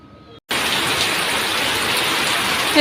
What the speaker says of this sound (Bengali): অনেক বৃষ্টি নামতেছে বাহিরে আপনাদের একটু দেখাই